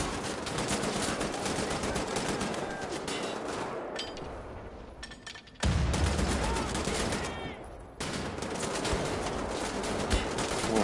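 Sustained heavy gunfire in Wolfenstein: The New Order, dense rapid bursts and loud impacts filling the whole stretch, with abrupt shifts in intensity and no clear pauses.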